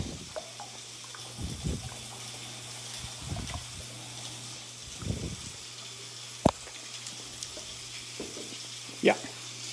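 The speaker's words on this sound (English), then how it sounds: "So I hear our chops sizzling over there on the grill plate." Bone-in pork chops sizzle on a grill plate, a steady low frying hiss broken by a few louder bursts and sharp crackles, with a faint hum underneath.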